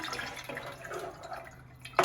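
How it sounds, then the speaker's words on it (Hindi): Water is poured into a cooking pot holding spice masala, a soft, faint trickle and dribble with a small splash at the end and no talk. "ये देखें 1 प्याली इसमें मैंने पानी डाला"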